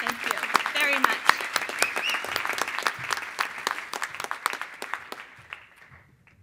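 Audience at the Beautiful Bakersfield awards ceremony breaks into applause, a crisp, moderately loud run of claps with some voices and cheers near the start, gradually thinning and fading out over about six seconds.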